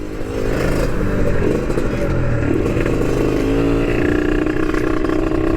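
A Yamaha NMAX turbo scooter fitted with a new aftermarket exhaust, idling and revving in a workshop with a steady, loud, throaty engine drone and uneven low pulses throughout.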